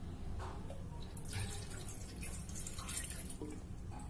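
Water being poured into a container, a close splashing and trickling stream with some drips, running steadily without any voices.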